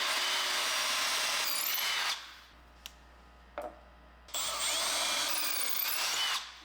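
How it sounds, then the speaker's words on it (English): A power drill with a 3/16-inch bit whirs at high speed into wood cabinet hardware holes, stops, gives two short bursts, then runs steadily again, close and loud. "Let's take this 3/16" drill bit, find those holes."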